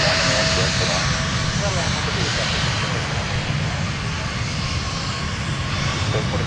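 Jet airliner taxiing on a taxiway at Minneapolis–St. Paul airport, a steady broadband engine roar close by throughout, with radio and voice chatter over it.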